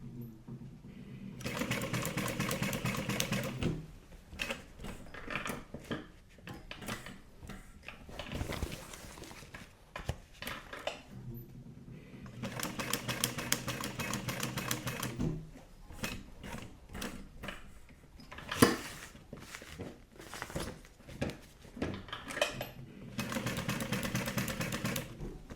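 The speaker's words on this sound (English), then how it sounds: "so now we're going to sew across into the opposite corner here" A sewing machine stitches a Stephan Sport Duffel bag, running in several loud bursts of steady mechanical whirring separated by short pauses.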